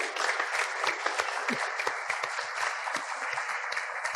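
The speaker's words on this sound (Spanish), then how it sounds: "por favor, el aplauso para el doctor Vargas" Audience at a gastrointestinal tumors medical conference applauding a doctor, a steady wash of many hands clapping at moderate distance, continuous for several seconds with no talk.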